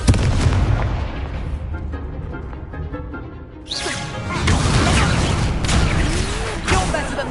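A Confringo blasting spell exploding in a Hogwarts video game, heavy booming blasts with whooshing bursts under a busy, dense mix of game effects, loud and close throughout.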